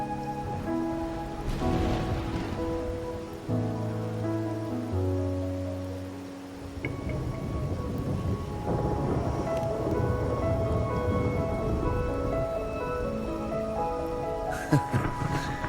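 Steady rainfall patters in the Wuthering Waves video game, a soft continuous hiss under a sustained musical score with held tones, lasting about sixteen seconds with no speech.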